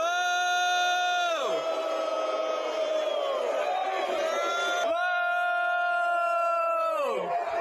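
A wrestling event crowd lets out loud, sustained boos that swell and then trail off in pitch, fading twice as the jeering rises again.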